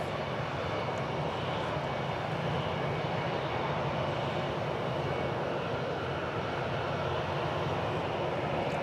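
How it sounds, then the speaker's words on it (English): A jet airliner on flight 220 to Amsterdam takes off from DFW Airport, a steady, broad engine roar that holds evenly throughout with no voices. "I think that's flight 220 going to Amsterdam"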